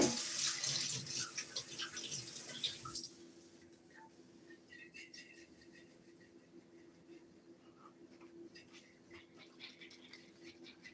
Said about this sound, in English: we just put some water in there, swish it around